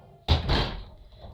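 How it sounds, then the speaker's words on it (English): A door swings shut with a sudden heavy thud, followed by a short rattling settle and fading reverberation in an indoor room. "close the door"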